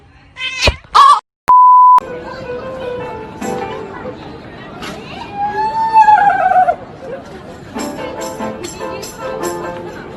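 A cat meows with a rising and falling cry midway through, alongside a sharp electronic beep early on, background chatter, and a few other short sounds.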